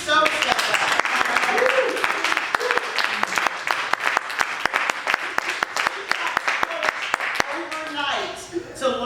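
Warm audience applause during a film festival Q&A in New York, dense steady clapping from a crowd that holds for several seconds before tapering off, with voices mixed in beneath.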